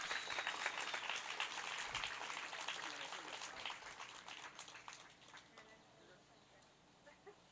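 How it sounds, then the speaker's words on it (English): Audience applause at an award ceremony for digital art award recipients, a dense broadband clatter that is loud at first, then steadily thins out and fades toward the end. "another round of applause for our digital art award recipients."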